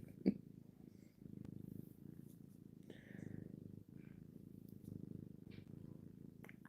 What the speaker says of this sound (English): And she's purring.